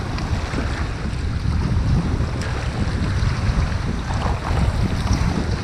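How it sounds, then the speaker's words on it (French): Surf and waves wash steadily around a kayak in fog off the Basse-Côte-Nord coast, a continuous broadband roar mixed with wind buffeting the microphone, loud and close throughout with no break. "on a le ressac"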